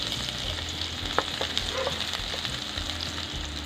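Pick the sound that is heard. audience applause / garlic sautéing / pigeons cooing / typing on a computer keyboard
garlic sautéing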